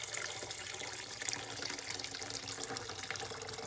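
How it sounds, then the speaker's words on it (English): Hot water pouring for wet felting, a steady rushing splash like a running tap, continuous and fairly faint throughout with no voices. "Okay, I'm gonna pour hot water, as hot as you can stand."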